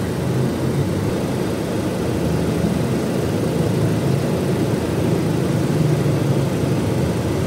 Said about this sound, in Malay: Proton X50 yang baru, enjin IGT 4 silinder.